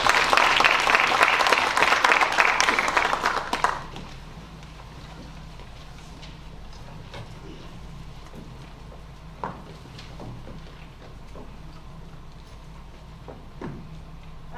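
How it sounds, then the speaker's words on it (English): Loud audience applause at a Kentucky FFA banquet bursts for a few seconds then stops abruptly, leaving quiet room hum with a few faint stray sounds. "Let's give all these individuals a round of applause."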